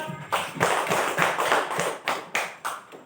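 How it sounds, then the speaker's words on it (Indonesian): A classroom of pupils claps hands together in a rhythmic series of about ten sharp, even bursts, moderately loud and fairly close, with no talking over it. "tepuk tangan dulu semua ya"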